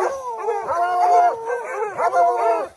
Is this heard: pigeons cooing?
no